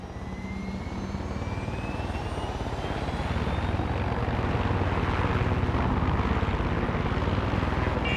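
An aircraft in the video game Far Cry 6 drones continuously with a loud, steady engine roar that swells slightly and holds throughout, with no talk.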